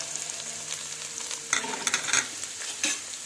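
Onions and coriander cook in oil in a pan on the stove, with a soft continuous sizzle under a few sharp stirring clatters and scrapes, close and fairly quiet.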